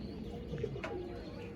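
Pigeons coo softly in a loft, with a faint low murmur running steadily under a constant background hiss.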